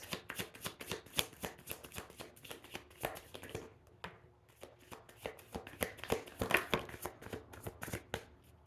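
Tarot cards being shuffled and drawn for a reading, a steady run of soft riffling flutters and taps with short pauses, close and fairly quiet, no talking.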